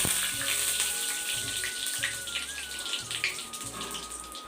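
Bori lentil dumplings fry in hot oil in a pan, a continuous close sizzle with crackling bursts over a steady background hum, no talking.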